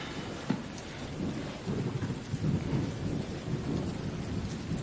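Steady rain pours down with a low rumble of thunder beneath it, a continuous wash of heavy rainfall with no voices.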